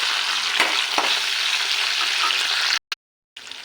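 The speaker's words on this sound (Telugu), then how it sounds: "ఆ తాలింపు అంతా ఫ్రై అయిన తర్వాత ఇవి వేసుకుని ఒకసారి ఇలా కలుపుకుని" Tempering spices sizzle and crackle in hot oil in a pan while being stirred, a steady close frying hiss with a few scraping knocks, dropping out briefly near the end before resuming, with no voices.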